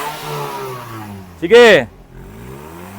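A damaged Toyota Vios engine leaking oil from the exhaust revs in one sharp, loud burst lasting under a second, then drops back to a rough idle while someone talks close by.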